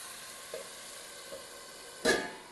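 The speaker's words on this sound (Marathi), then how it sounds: "आणि आता मंद गॅस करून मी बटाटा शिजत ठेवणार आहे." Potato cooks in a pan over a low gas flame with a faint, quiet background hiss, a couple of soft clinks, and one louder scraping stir near the end.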